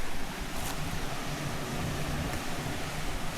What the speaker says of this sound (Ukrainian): А, тут всередині там вода тече.